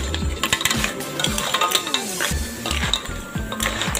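Seafood with holy basil stir-fried in a pan: rapid metallic scraping and clanking of a spatula against the pan over a steady sizzle, busy and close.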